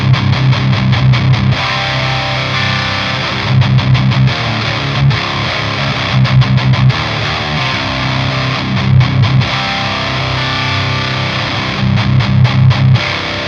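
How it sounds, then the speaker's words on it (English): Heavily distorted electric guitar through a Thorn Magma distortion pedal, playing thick, gritty chords and riffs in bursts with short pauses, loud and close, with no talking. "let's go ahead and turn on the distortion pedal and see what happens"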